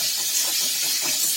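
Ivy gourd (kovakkai) sautéing in a pan for a fry makes a continuous bright, hissing sizzle, close and even for a short stretch, with no one talking.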